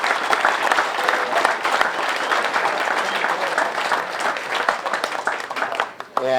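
A large audience applauds loudly and continuously at a football field dedication ceremony, a thick crackle of many hands clapping that stops abruptly at the end.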